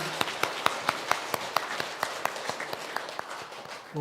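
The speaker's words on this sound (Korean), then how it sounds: "하나님께 영광의 박수 올려드립니다" A congregation at a Korean family worship service claps together in a strong, regular rhythm of sharp beats over a continuous bed of applause, loud and close, fading a little toward the end.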